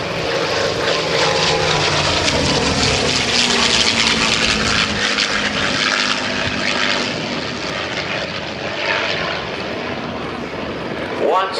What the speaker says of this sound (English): Listen to the sound of the Thunderbolt and the P-51 Mustang in formation from the right.